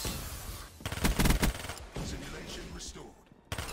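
Vesper submachine gun in Black Ops 3 firing on rapid fire, with dense, rattling bursts of gunfire peaking in the middle and a sharp shot near the end, amid busy game sounds and some voices.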